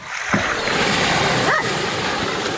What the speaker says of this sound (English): Their dog, Sam, was equally astounded